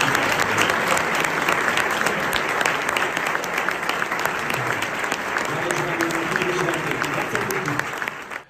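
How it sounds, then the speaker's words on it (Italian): Dense, steady applause from a crowd honouring the coach of the Italian national football team, with many hands clapping continuously and a faint voice over it before the clapping fades out at the end. "E un grande applauso ovviamente per il commissario tecnico."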